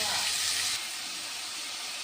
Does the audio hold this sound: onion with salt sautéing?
yes